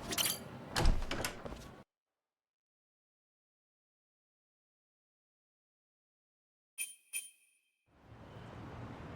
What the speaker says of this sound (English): The door doesn't work.